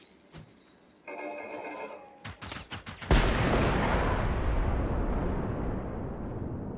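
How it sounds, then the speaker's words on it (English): A grenade explodes in the video game Generation Zero: a loud, sharp blast followed by a sustained broadband roar and rumble that slowly fades, preceded by scattered clicks and a short burst of tonal game sound. "That was a beautiful grenade."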